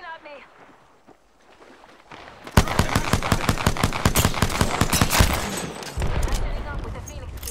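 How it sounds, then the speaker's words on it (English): Rapid automatic gunfire erupts in Apex Legends: dense, loud bursts of shots in quick succession after a quieter opening, continuing with brief pauses, with a voice faintly present underneath. "They're shooting at me."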